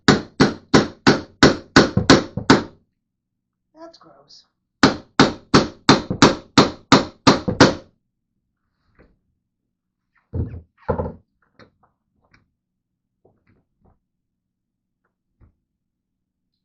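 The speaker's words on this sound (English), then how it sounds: "I should be able to knock this out with a hammer" Rapid bursts of loud metallic hammer blows knocking out an office chair piston, two volleys of about eight strikes each, then a few softer knocks; a voice speaks briefly.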